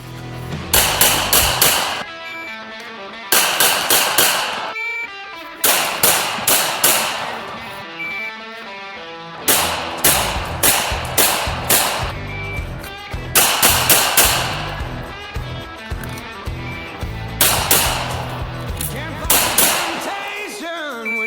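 A Smith and Wesson M&P 2.0 5-inch Pro Series .40 pistol fires in repeated rapid strings of sharp, loud, close shots, groups of several cracks separated by short pauses across the whole stretch.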